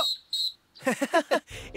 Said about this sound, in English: It's a whistle, Rose.